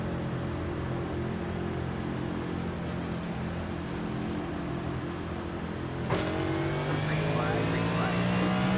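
Race car engines roar together at a green flag start in the iRacing video game, with steady loud drone of many engines and a sharp rise in revs and rising pitch partway through, mixed with faint voice.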